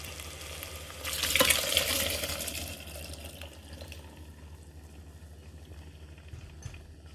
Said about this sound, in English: now it's time to go ahead and add the chana or the chickpeas